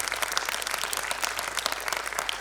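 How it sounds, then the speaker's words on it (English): Audience applause for the panelists at a defence literature festival: dense, steady clapping from a crowd that fills the whole moment at an even, moderate level, with no speech over it. "Can we have a round of applause for our panelists?"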